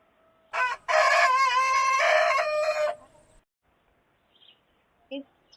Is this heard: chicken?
yes